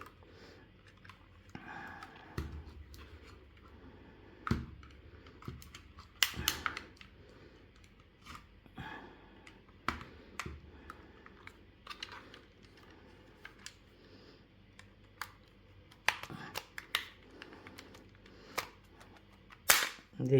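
Plastic clips on an Xbox controller shell snap open one after another as a pry tool works around the seam, giving sharp, scattered clicks and pops up close with quiet handling between them.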